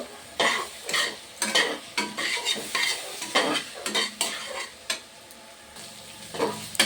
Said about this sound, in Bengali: টমাটো বাটা অল্প করে দিয়ে দিচ্ছি এটাও সুন্দর করে মিশিয়ে নেব